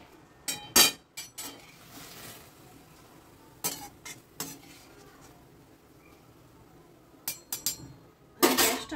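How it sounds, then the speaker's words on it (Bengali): A metal kadai is rinsed and set back down on the stove while cooking an ash gourd peel dish, giving a few sharp clanks and clinks scattered across a quiet kitchen, the loudest at the very end. "কড়াটা ধুয়ে আবার এর মধ্যে বসিয়ে দিলাম"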